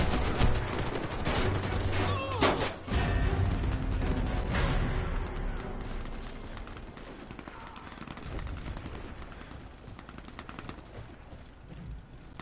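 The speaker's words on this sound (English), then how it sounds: "Now these fucking losers are shooting us now." Rapid overlapping gunfire in a Minecraft match, dense crackling volleys that run continuously and loudly at first, then thin out into a quieter scattered rattle, with no voices heard.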